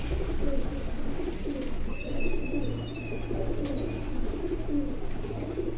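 Karnapura pigeons coo in low, repeated throaty calls over a steady background hum, with faint chirps and a brief rustle mixed in; no one speaks.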